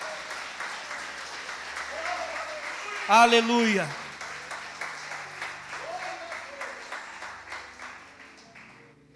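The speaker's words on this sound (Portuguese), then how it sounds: "Então dê uma linda salva de palmas para Ele." A church congregation claps in a long, dense burst of applause that runs through the whole stretch, with a preacher's amplified voice and a short vocal exclamation rising over it.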